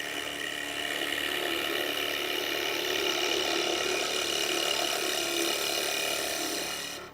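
A gouge cuts wood on a lathe while a spatula is being turned, giving a continuous, even scraping and whirring hiss with a low motor hum, close and steady from start to finish.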